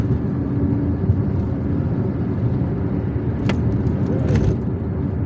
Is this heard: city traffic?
yes